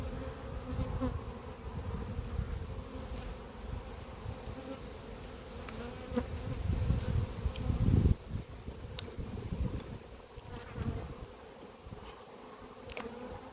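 A dense, continuous drone of agitated honey bees fills the air at an apiary hive, with wind rustling past the microphone and a louder swell of buzzing near the middle.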